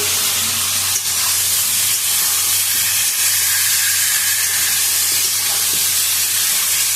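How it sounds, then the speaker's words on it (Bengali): Water added to chicken in a hot stew pot hisses and steams, a loud, continuous broadband hiss with faint bubbling that stays steady from start to finish. "আর চিকেনটা জলটা দিয়ে দিয়েছি"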